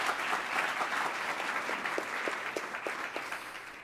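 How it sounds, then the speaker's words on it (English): An audience at a workforce panel event claps steadily in a moderate round of applause, heard from a little distance and tapering slightly toward the end. "round of applause."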